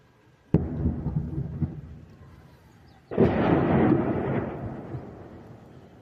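Two distant booming blasts a few seconds apart as a drone is shot down over Kherson, each followed by a rumbling echo, outdoors with no voices.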